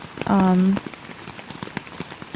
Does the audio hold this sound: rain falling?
yes